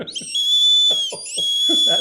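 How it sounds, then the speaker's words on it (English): A shrill, thin plastic toy whistle like a Cracker Jack prize whistle holds a steady high tone, briefly dipping in pitch, while a few short low murmurs sound beneath it. "It's like a Cracker Jack whistle."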